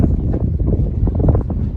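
Steady wind rumbles and buffets against the microphone on a hilltop along the Appalachian Trail, a low continuous roar with no voices.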